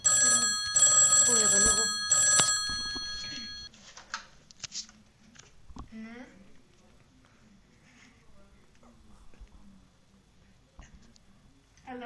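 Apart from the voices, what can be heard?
telephone ringing with nobody answering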